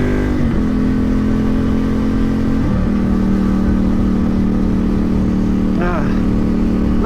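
Beginner motorbike ridden at night, its engine droning steadily and close with a few rising rev swells, the tone holding high through the ride.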